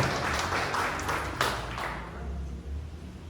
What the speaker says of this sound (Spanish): Denme un aplauso al Señor.